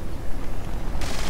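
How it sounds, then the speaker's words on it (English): Nuclear explosion in the video game Fallout 76, a dense, loud roaring blast filling the whole clip with a sustained rumbling crackle and a sharper burst near the end, no voices. "Lucky cool guys don't look at explosions."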